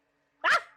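A single short, high-pitched bark from a small dog, close and clear, standing in for a big wolf, with silence before it and a brief tail after.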